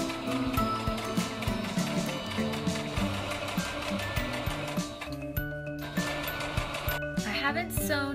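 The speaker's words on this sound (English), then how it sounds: "I've got my sewing machine" A sewing machine runs in rapid mechanical bursts, its motor whirring and needle clattering steadily, with brief pauses between runs of stitching.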